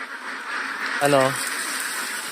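One farmed duck gives a single short, nasal quack close by against a steady background hum, while a person talks nearby.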